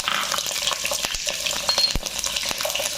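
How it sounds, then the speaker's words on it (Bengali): Onions frying in hot oil in a wok: a steady, close sizzle with crackling spatter and occasional scrapes of stirring, no voices. "তেল গরম হয়ে গেছে পেঁয়াজগুলো দিয়ে দিলাম"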